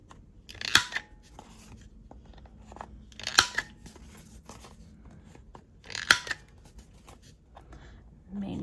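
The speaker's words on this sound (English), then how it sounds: "Oh, I wanted to round corners." Three sharp, crisp clicks of a corner cutter punching through paper corners, evenly spaced a few seconds apart, with quiet desk handling sounds between them.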